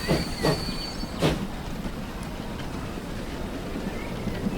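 Train in the video game Transport Fever 2, running along a New York route: a steady rolling rumble with a few sharp clanks or squeals early on, and a faint high whine over part of it.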